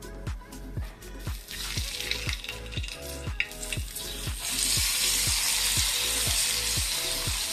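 Jitada fish fries in hot oil with a close, steady sizzle that swells louder toward the end, while regular ticking pops recur throughout.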